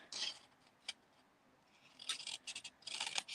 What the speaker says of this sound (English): all 4 lines with my snips, and then I'm going to cut these edges off